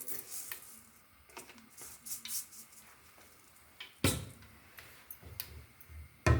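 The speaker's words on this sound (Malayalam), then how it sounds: "കടുക് പൊട്ടിക്കഴിയുമ്പോൾ" Mustard seeds splutter in hot oil while a spicy pickle is cooked, with scattered sharp pops and crackles and a few utensil clinks, fairly close and otherwise quiet.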